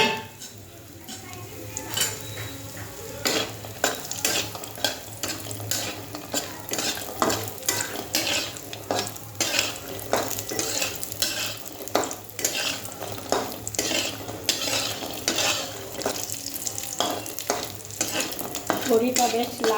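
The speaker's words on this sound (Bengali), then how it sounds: "বড়িটা বেশ লাল লাল করে ভেজে নিতে হবে" Bori (lentil dumplings) frying in hot oil sizzle beneath a busy, fairly loud run of metal spatula scrapes and clinks against the pan, almost continuous throughout.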